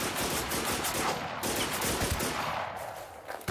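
Dense, continuous gunfire fills the survival shooter game Infestation, with rapid automatic bursts overlapping into a loud, sustained fusillade that thins slightly near the end.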